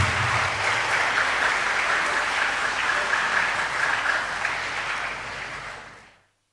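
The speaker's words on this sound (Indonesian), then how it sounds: "Boleh tepuk tangan Bapak Ibu hadirin sekalian." Sustained applause from a ceremony audience, steady and dense for about six seconds before fading out at the end.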